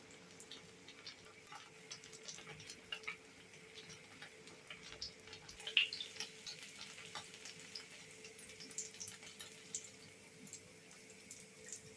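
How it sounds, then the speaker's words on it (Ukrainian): Steady crackling sizzle of food frying in a pan, with scattered pops and faint ticks throughout, close and fairly quiet, no talking. "Смажу все з одного боку зарум'яняться, переверну на інший, підсмажу також з іншої сторони."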